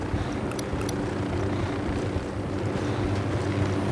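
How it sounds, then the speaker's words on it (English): A helicopter in the video game Ghost Recon Wildlands gives a steady low rotor drone and engine rumble throughout, continuous and moderately loud, with no speech. "Helicopter, get down."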